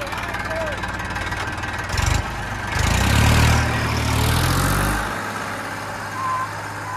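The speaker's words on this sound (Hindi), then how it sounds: "तो अभी देखो ट्रैक्टर कैसे जंगल में दौड़ाता है वो देखो," A tractor drives through woodland near a village, its low engine rumble surging louder midway and then easing back, with voices talking over it.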